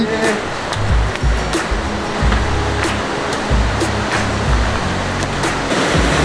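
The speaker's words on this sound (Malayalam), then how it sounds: "നമ്മളിപ്പോ ഇതാ കാട്ടരുവിയുടെ തുടക്കത്തിലെത്തിയിരിക്കുകയാണ്" Water rushes steadily at a forest stream's source on a jungle hill climb, a loud, continuous roar with no pauses.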